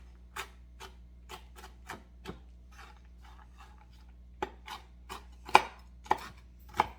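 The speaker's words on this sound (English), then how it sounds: "We're just gonna chop them up." A knife chopping chicken halves for chicken salad, a series of crisp, evenly spaced taps on a cutting board, close and fairly quiet, running for several seconds.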